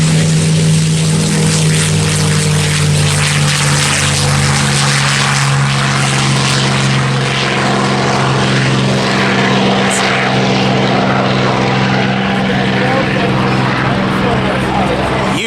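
A World War II American propeller fighter plane drones overhead at a planespotting outing, its loud, sustained engine roar holding steady throughout, with someone talking over it.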